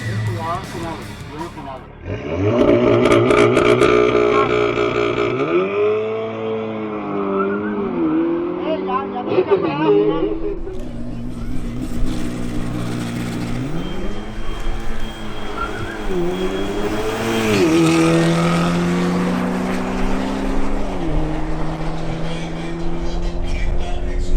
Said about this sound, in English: Finally, we have a duel between Sebastián Sepúlveda's BMW M240i and Arturo Polo's Audi S3.